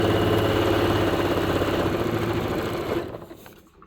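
A sewing machine stitches fabric in a steady, fast mechanical whir that runs loud and continuous for about three seconds, then slows and stops, leaving near quiet.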